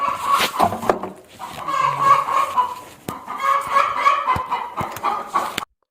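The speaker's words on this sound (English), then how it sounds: "Look, this is a hen." A hen clucks and chatters in a farmyard in uneven bursts, fairly close, with other faint farm sounds in the background.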